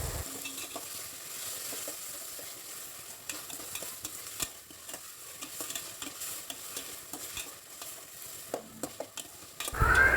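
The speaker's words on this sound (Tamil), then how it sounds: "இஞ்சி பூண்டு சேர்த்த உடனே நல்லா கிளறி விடுங்க, இல்லைன்னா அடியில் ஒட்டிக்கும்." Ginger garlic paste is stirred with cooked tomato, onion and vegetables in a pan for a vegetable kurma, a quiet low sizzle with repeated scraping and tapping of the spoon, ending in a louder clatter.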